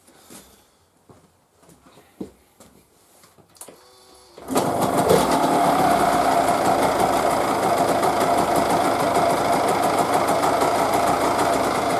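A few faint clicks and taps, then a Yamaha DTR 125 motorcycle engine with a carburettor problem starts and settles into a loud, steady warm-up idle with a fast, even rattle.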